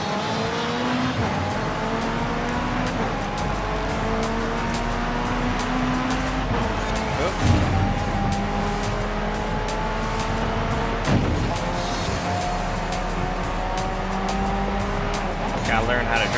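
A McLaren Senna races in Forza Horizon 5, its engine climbing and dropping through repeated gear shifts with occasional tire squeals over constant road noise, while a voice talks over it.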